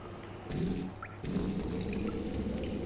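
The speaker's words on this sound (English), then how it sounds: "here's a water jug" Water sloshing and pouring in the water jug task in Among Us, a soft game sound effect with two swells of liquid gurgle over a faint steady background, no talk.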